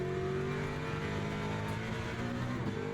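Ford Mustang race car in Le Mans Ultimate, its engine droning steadily and loud throughout with a sustained harmonic whine, holding high revs with slight pitch shifts and no pauses.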